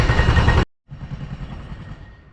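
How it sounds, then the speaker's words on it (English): Roadworks machinery near the Willerby parish boundary by Kingston Road at the edge of Hull gives off a loud, broadband rattling roar. It cuts out briefly, then comes back as a steadier mechanical drone with no talking. "if you'll excuse the noise of the roadworks in the background."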